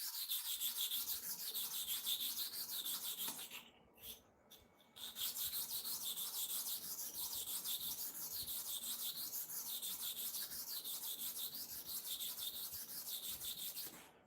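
A hair clipper blade is rubbed in a zigzag motion on a sharpening stone, producing a continuous gritty scraping with a rapid back-and-forth rhythm, briefly pausing once before resuming at an even pace.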